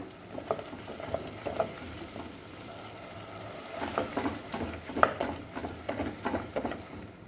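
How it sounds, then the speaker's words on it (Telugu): Sliced onions and mint leaves stir-fry in a pan with a soft continuous sizzle, broken by irregular scraping stirs of the spatula that come more often toward the end. "ఉల్లిపాయ వేగే వరకు బాగా వేయించండి"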